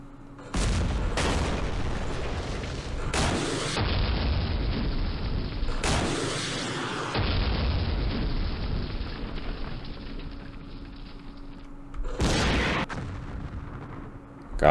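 Artillery fire in the war strategy game Campaign Series Middle East: several loud, broadband booming blasts in succession, spaced irregularly, with rumbling sustained barrages between them and a steady hum underneath.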